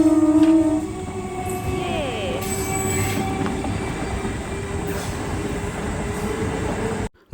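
A train rolls through a railway level crossing at Prantik, with its gate lowered. A loud, steady rumble of wagons and wheels carries on for about seven seconds, with metallic wheel squeals and a brief horn-like tone, then cuts off abruptly.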